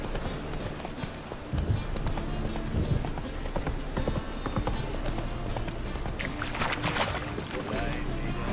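Horse hooves clip-clop steadily in The Witcher 3 video game, a continuous rhythmic trot under wind and ambient game sound, with a brief voice partway through.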